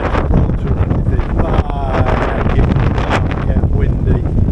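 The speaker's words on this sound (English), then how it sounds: "very cold and windy out here" Loud, steady wind roars against the microphone out on open water in the Strait of Gibraltar, with a voice partly audible beneath the rushing noise.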